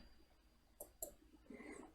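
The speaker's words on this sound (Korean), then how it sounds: "여기에서 마우스를 클릭합니다" A few faint, quick computer mouse clicks, roughly two close together then another, in an otherwise quiet room.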